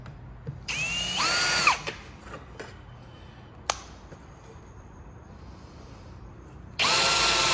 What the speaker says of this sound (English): this one is for when holes are being drilled in material.